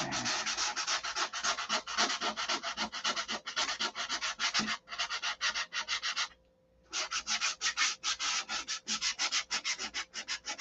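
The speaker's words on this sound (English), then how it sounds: "That sanded out pretty easy." Loud, close sanding on a SIG Magnum: rhythmic back-and-forth rubbing strokes in a steady run, broken by one short pause before the strokes resume.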